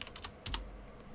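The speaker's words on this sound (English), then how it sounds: "I'm gonna press S on my keyboard" Computer keyboard keys pressed during music-editing software work, a few quick clicky taps close to the mic, with two sharper strokes near the middle, over a quiet room.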